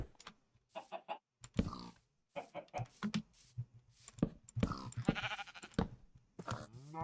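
Sheep bleat repeatedly in a blocky sandbox-style video game, a series of short, fairly loud bleats and clucking-like calls coming in quick, irregular bursts with no talk over them.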